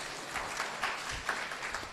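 A class of students applauding a classmate during a math review lesson, steady scattered clapping lasting about two seconds at moderate distance, with no talk over it.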